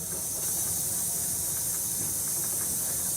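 A loud, steady hiss of steam entering the cylinders of an A4 steam locomotive fills the air over a low rumble, continuous and unbroken throughout.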